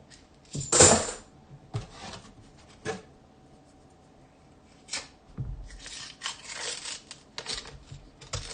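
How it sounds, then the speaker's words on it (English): Coins from coin rolls and new coin banks being handled, clinking and rattling in short, irregular bursts, one louder spill near the start and scattered jingles later, with no talking. "checking out the coins from my new banks"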